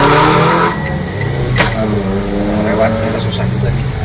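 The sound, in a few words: car driving on the road ahead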